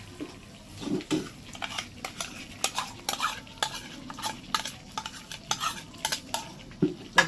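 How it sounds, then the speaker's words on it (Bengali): A spoon stirs yogurt through pointed gourd (potol) curry in a pan, making repeated scraping clinks against the metal at an irregular rhythm over a soft, steady sizzle, close and fairly loud with no talking. "দইটা দিয়ে একটু হালকা করে নাড়াচাড়া করে নেব"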